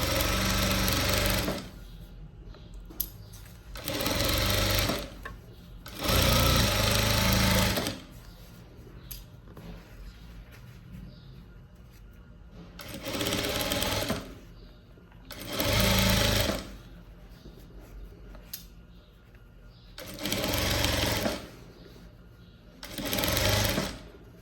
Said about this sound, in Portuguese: vou costurar com um pezinho de máquina